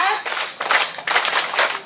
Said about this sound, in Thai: อสบปรบมือรับกัน